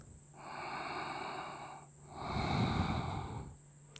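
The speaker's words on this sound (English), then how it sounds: "How deeply can you breathe into your left lung? Taking 2 more breaths." Two slow, deep breaths during a restorative yoga session, each a long airy inhale or exhale through the nose, close and soft, with a brief pause between them and no talking.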